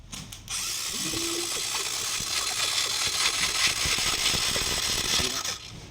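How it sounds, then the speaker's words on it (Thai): A used FC 3000 sidecar motorcycle engine hand-started and running, a dense rattling, clattering mechanical roar that begins abruptly and stays loud and close throughout before cutting off near the end. "สตาร์ทมือโอเคแล้วนะครับผม"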